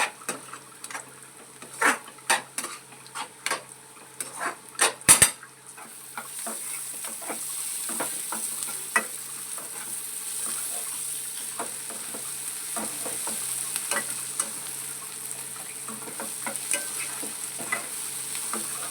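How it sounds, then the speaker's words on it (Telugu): Onions frying in a pan with turmeric and chili powder for a gongura and raw prawn curry, a steady close sizzle running throughout, with sharp spoon scrapes and clatters against the pan in the first few seconds, no talk. "ఆనియన్స్ కూడా బాగా ఫ్రై అయిపోయినాయండి"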